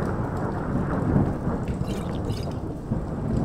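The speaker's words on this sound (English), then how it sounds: "Oh, Khajiit is scared of lightning." A video game thunderstorm: steady heavy rain hiss with deep rolling thunder rumbling underneath throughout, loud and continuous, with no talking.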